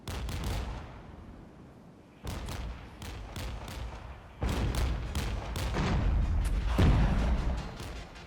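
Repeated gunfire from MX-10 armored vehicles during a Regiments battle, a series of sharp booming shots in irregular bursts over a steady rumbling battlefield backdrop.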